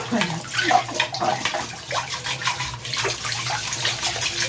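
Water running from a tap while dishes are washed, a continuous close splashing stream with small clatters mixed in and no talk over it.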